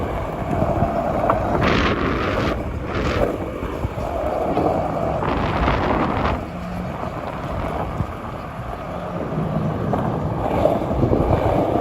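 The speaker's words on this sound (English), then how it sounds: "And it's windy too." Strong wind buffets the microphone on a New York City street at night in a loud, continuous roar with gusty surges, outdoor noise throughout and a voice faintly underneath.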